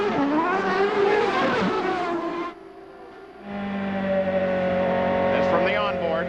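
CART Champ Car engine of 925 horsepower at the 1999 Portland race, heard from the onboard camera as a loud, high-pitched whine that eases briefly before climbing again with acceleration, with commentators talking over it throughout.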